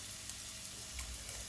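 Garlic and ginger frying in about two tablespoons of reused frying oil in a wok, a steady, faint broadband sizzle with small crackles, close and continuous with no talk.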